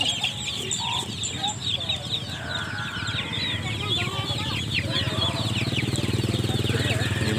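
Kampung chickens cluck and chirp continuously at an animal market in Ngawi, with many birds calling at once over a busy background, while a motorcycle engine runs nearby and people talk.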